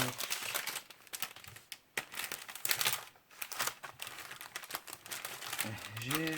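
Packaging from a diamond art store parcel is unwrapped by hand, giving close, irregular crinkling and rustling bursts with a short tearing sound. A voice is heard briefly near the end.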